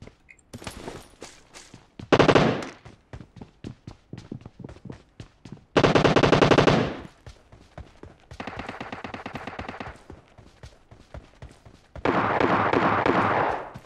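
Bursts of rapid automatic gunfire from a shooter video game alternate with single shots, some long loud sustained volleys, heard up close.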